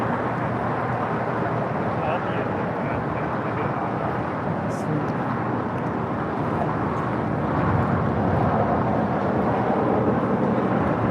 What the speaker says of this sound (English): The Lufthansa A350,